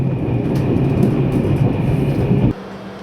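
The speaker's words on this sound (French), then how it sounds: "Notre train pour Ploče est maintenant prêt au départ" A passenger train sits ready to leave Sarajevo for Ploče on a single-track line, its steady low rumble filling the space before the noise drops abruptly near the end.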